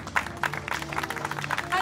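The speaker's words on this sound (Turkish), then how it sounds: "Alkış, anne geliyor, alkış, alkış, alkış." Applause from wedding guests as the mother arrives, a continuous patter of claps with music and talking voices underneath.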